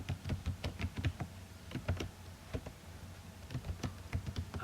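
Rapid, uneven keystrokes clatter on a computer keyboard as C program code is typed, close and clear with no voices, in bursts with short pauses.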